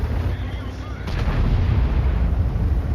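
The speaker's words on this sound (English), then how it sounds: "He fires his last round, and he gets a fire on the AMX 30" A tank's main gun fires in World of Tanks during a battle against an AMX 30, one heavy booming shot landing near the middle and then a rumbling low tail under continuous battle noise.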